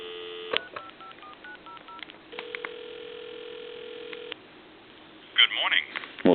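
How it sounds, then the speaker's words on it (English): Telephone redial sequence on a Radio Shack phone: a rapid run of DTMF keypad tones followed by a long steady tone, then faint ringback and brief background chatter, moderately loud and close over a faint line hiss. "I'm going to hang up. I'm going to hit redial."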